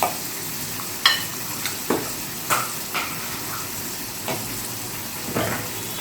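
Chicken korma with dried chili powder stirred in a hot pan, continuous frying sizzle broken by several scraping spoon strokes at an uneven rhythm, close and fairly loud.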